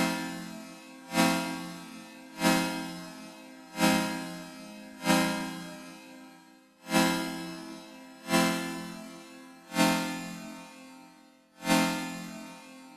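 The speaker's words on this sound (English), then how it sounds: "And if we listen to the 31 tet chords, they sound like this." Keyboard chords tuned to 31-tone equal temperament, a microtonal tuning. Eight sustained chords are struck one at a time at an even pace, each with a sharp attack that slowly decays, and there is no talking.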